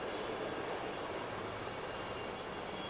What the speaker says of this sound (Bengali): এই যে হেলিকপ্টার নামছে এখানে